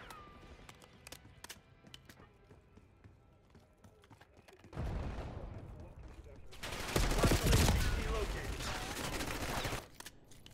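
Gunfire in the shooter Black Ops 6 during a match, with scattered sharp shots at first, then heavy sustained bursts of automatic fire in two loud stretches, under occasional voices.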